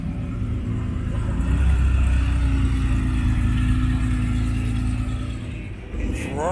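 Ferrari F12 engine at a car meet gives a loud, steady low rumble that swells slightly midway, with a brief rising note near the end, no talking over it.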